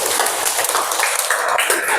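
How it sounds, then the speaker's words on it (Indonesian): Classroom of students clapping for a classmate, a close, dense burst of hand claps with a bright, crisp sound that lasts about two seconds. "tepuk tangan buat Ria"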